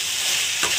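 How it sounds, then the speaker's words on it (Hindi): Broccoli and mixed vegetables are stirred in a hot pan over low heat, giving a dense, close sizzle with one brief scraping stroke near the end. No voices are heard. "अब मैंने इन सब चीज़ों को जो वेजिटेबल है उन्होंने अच्छी तरह से इसके अंदर मिक्स करना है"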